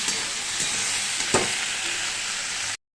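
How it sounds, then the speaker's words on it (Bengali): Onions and potatoes fry in a pan with a constant close hiss of sizzling oil, broken by a few light scraping stirs and one sharper clink, no one speaking, ending abruptly. "আমি পেঁয়াজ করি আলু এখন ভাজছি।"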